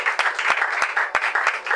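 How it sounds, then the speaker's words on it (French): Congregation at a French-language church service clapping and cheering in praise of Jesus, a dense, steady wash of applause with a few sharp individual claps standing out, moderately loud and continuous throughout. "Acclamons tout fort pour Jésus"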